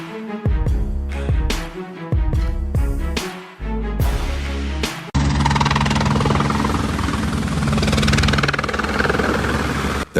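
A helicopter in flight pushing through risky, near loss-of-control maneuvers: loud, close rotor and engine roar, choppy and broken at first, then a sustained heavy drone with no talking.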